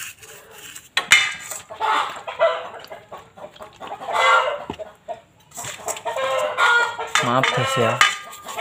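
Chickens cluck and squawk repeatedly nearby, a rooster-like crow among them, with a person briefly speaking underneath.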